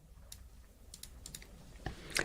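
Keystrokes on a computer keyboard, a few sparse clicks spread out and then a quick cluster near the end, faint and close against a low room hiss.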